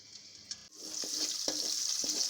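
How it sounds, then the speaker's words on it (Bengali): Chopped onion, garlic and chili hit hot white cooking oil, a few soft clicks giving way to a sudden, loud, steady sizzle close by, with occasional stirring knocks underneath. "তেল গরম হয়ে যাওয়ার পর এখানে পেঁয়াজ কুচি, রসুন কুচি ও মরিচ দিয়ে দিয়েছি।"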